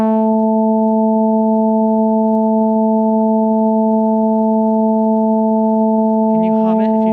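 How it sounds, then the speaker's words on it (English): Four steady sine wave tones sound together as one sustained chord, loud and unchanging, with a faint burst of other sound near the end. "here's all four of these frequencies playing together"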